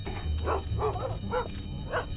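Dogs barking in the 2002 shooter Iron Storm, a set in a World War One that never ended; four separate barks in quick succession over a low game hum.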